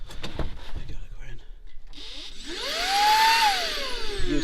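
A hoover kept in a bag inside a work van whirs up to a rising motor whine and holds a loud, steady suction roar, following a few clunks and talk beforehand.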